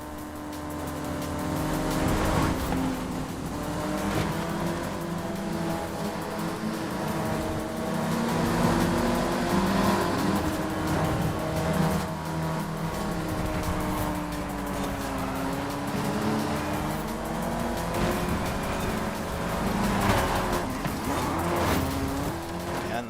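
Race cars in Forza Horizon 5 roar through a video game race against AI drivers, a dense continuous engine drone with shifting revs, tire squeal and a busy mix of layered motor sound throughout.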